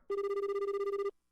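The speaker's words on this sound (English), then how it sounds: "That sounds more like a dial tone than a phone call" A telephone tone from the Ace Attorney video game sounds as one steady, loud electronic beep lasting about a second, with a faint fast pulsing running through it, and nothing else around it.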